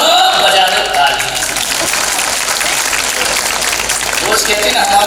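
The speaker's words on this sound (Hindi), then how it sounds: "बहू बजा दो ताली।" An audience claps at a spiritual discourse, a loud, dense and continuous roar of many hands that holds steady throughout, with voices mixed in under it.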